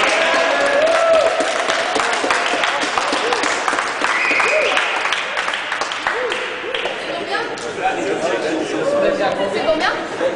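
A small group claps in a lab setting where a reinforced concrete beam is being tested, with steady, busy applause mixed with lively overlapping chatter and voices throughout.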